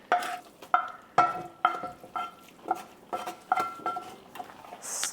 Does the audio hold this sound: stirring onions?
yes